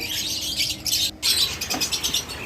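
Young cockatiel chicks chirp in a steady stream of high, thin peeps and squeaky calls, close by and fairly loud, with a brief gap partway through and no talking.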